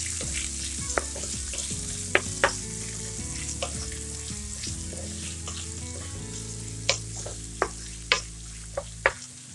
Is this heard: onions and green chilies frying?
yes